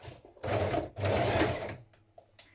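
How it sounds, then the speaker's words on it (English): A sewing machine stitches hoodie fabric pinned around the face opening where the cord will go, running in two loud sustained bursts with a brief pause between, then tapering to quieter handling sounds. "We're going to stitch those together now."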